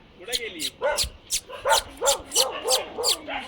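Dogs on a village path bark repeatedly in quick, loud yips and bow-wows, roughly a dozen sharp barks in a close, steady rhythm with a little whimpering, and no clear speech.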